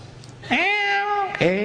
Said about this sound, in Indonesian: Kucing lucu.